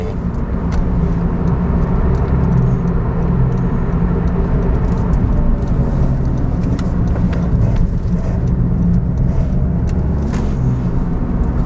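A car fitted with new Carribean brand struts made in Thailand, test-driven through a curve on a road: a steady, loud interior rumble of engine and tire noise, continuous throughout with no talking.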